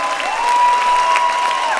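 A festival crowd at a vegan camp-out claps and cheers for people on stage, a brief dense burst of applause with a whistle-like tone running through it.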